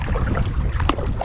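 A canoe paddled through waves on a camping trip, with choppy water sloshing against the hull under wind noise and one sharper splash near the end.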